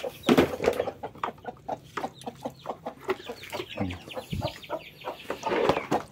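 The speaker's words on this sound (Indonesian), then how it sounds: "Ini kebetulan ayam-ayamnya luar biasa." Village chickens cluck in rapid, uneven bursts close by, a busy flock pecking at leftover rice in a garden, with a brief human call mixed in.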